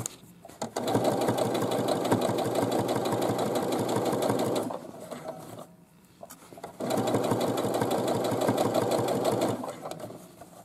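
A sewing machine stitches the top hem of a fabric boomerang bag with a fast, even, close mechanical whir in two long runs, separated by a brief pause.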